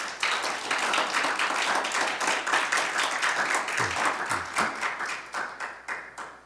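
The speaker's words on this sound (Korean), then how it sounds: "제 아내한테 박수 한번 해주십니다." A church congregation at an Arizona Korean Baptist Sunday service applauds warmly, a dense, continuous wash of many hands clapping at moderate volume. Near the end it fades slightly and a few low thumps stand out.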